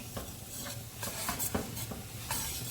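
Sofrito for spaghetti bolognese is stirred in a pan, with soft, repeated scraping strokes over a quiet, continuous sizzle.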